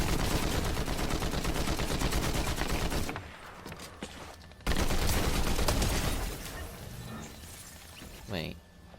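Bursts of Fortnite gunfire, loud and close: a dense volley, a short lull with scattered sounds, then a second sustained burst and a brief final flurry, with voices talking over the shots.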